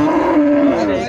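A Friesian cow or calf moos once at the Raniganj cattle market in Dinajpur: a single loud, close, drawn-out low call lasting about a second, with no talk over it.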